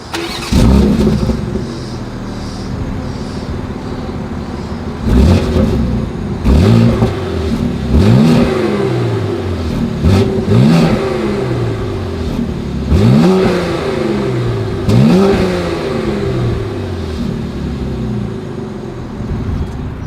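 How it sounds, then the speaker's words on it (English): A 2020 BMW X3 M's engine with loud exhaust revs repeatedly, each sharp rise in pitch falling back to a rumbling idle, about eight blips in all. "As always, here is that exhaust clip"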